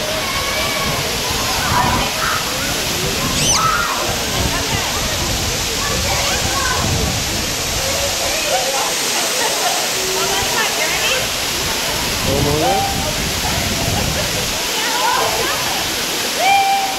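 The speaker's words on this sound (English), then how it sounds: "That is a real waterfall." A real waterfall pours into deep water, a steady loud rushing roar with sloshing and splashing throughout, while people talk over it.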